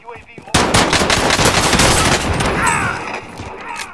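Automatic gunfire in Call of Duty: Warzone, a loud sustained burst of rapid shots lasting a couple of seconds that then fades into game ambience.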